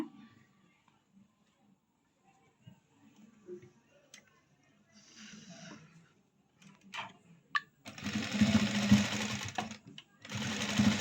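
A sewing machine stitches through a fabric knot tassel in short, close bursts of whirring. Quiet pauses and small handling clicks fall between the runs, and the loudest stretch comes near the end.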